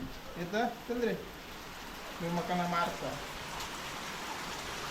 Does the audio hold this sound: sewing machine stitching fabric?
no